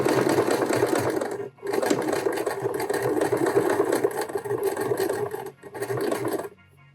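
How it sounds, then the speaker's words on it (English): A sewing machine stitching a belt loop onto old jeans, a fast, steady mechanical whir close by, running in bursts with two brief stops and a final halt. "Very carefully, as I'm sewing, I'm going to bring this belt loop over the back"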